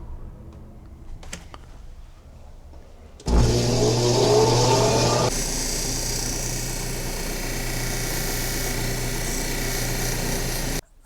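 A rock polishing wheel grinds a stone, rising from quiet handling noise into a loud, steady broadband whir and scraping hiss that holds to the end, with a brief harsher burst as the stone first meets the wheel.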